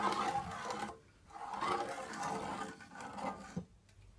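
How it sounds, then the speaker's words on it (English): A spoon stirs a dry mix of onion powder, jerk seasoning, black pepper and paprika in a bowl, making soft, close scraping and rustling strokes with short pauses between them. "Just give it a stir."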